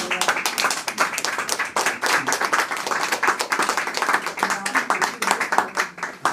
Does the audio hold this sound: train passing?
no